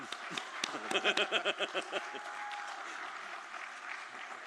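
A small audience at a community media awards ceremony claps in a rhythmic burst of about ten beats, then fades into murmuring crowd noise with a faint sustained tone.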